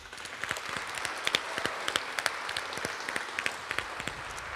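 An audience at a school awards ceremony applauds steadily with dense, even clapping from many hands, moderately loud throughout with no talking.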